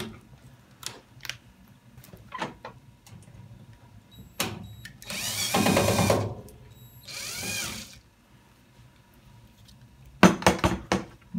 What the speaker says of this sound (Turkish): Ben şarjlı matkap ile bunları sökeceğim.